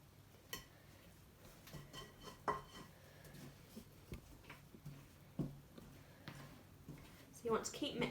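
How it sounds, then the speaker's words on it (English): Cookie dough being mixed by hand in a bowl for a Christmas bake: scattered soft knocks and scrapes of a utensil against the bowl, fairly quiet, with someone talking throughout. "You want to keep mixing until a soft cookie dough type dough forms"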